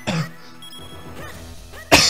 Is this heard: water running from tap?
no